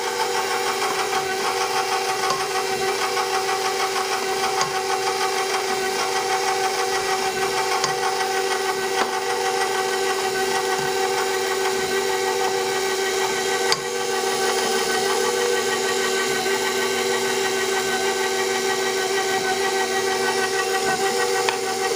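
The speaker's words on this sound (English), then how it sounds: "I'm gonna turn my mixer back on to very low speed on stir" Stand mixer running steadily at very low stir speed while mixing banana bread batter, a constant whirring motor hum with a faint rhythmic clatter, unbroken for the whole stretch and free of speech.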